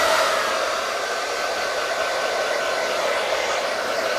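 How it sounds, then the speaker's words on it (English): Hair dryer blowing warm air onto styled hair, a loud, steady close-up whoosh of airflow with no pauses or voices. "we take the hairdryer and we move it in, and we can warm it up"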